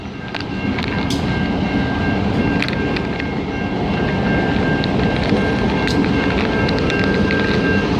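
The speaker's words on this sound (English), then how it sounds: "Oh, that's the whole train right there" CN freight train rolling past a crossing, a loud, steady rumble of railcars with rhythmic wheel clacks and a faint high squeal running through, continuous and close throughout.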